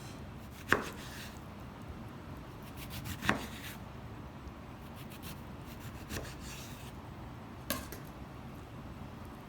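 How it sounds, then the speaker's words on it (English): A knife slices through an orange for a sun-shaped cocktail garnish, making a few quiet, separate cuts and board taps spaced a couple of seconds apart over a low steady background hiss. "So I'm going to slice into this orange."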